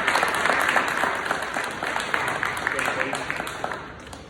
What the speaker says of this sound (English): So can y'all clap it up for Junior Atchintron?